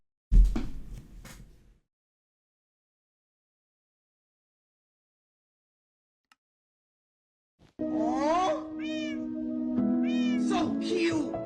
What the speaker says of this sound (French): So cute! Un petit chat.